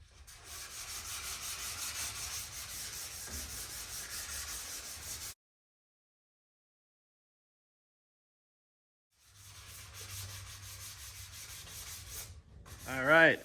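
Steady abrasive sanding rasps against the body panel of a 1966 Mustang GT Fastback in two long stretches, separated by several seconds of silence, followed by a brief louder scrape.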